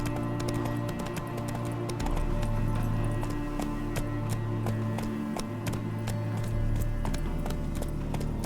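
Roach the horse galloping in The Witcher 3, a steady run of rhythmic hoof clip-clops over a continuous low rumble, loud and close, with no talk.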